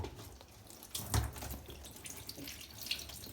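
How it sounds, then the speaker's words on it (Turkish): Water is poured during a bath, splashing and trickling in short uneven bursts with one stronger gush near the middle, fairly close and with no talking. "Su dök birazcık yıkayalım hızlıca."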